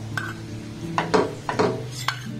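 Palm fruit pulp being stirred in a hot frying pan, a few scraping, knocking spoon strokes against the pan over a low steady hum.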